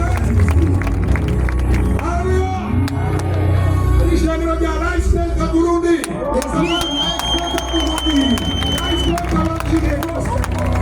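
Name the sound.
congregation applause and cheering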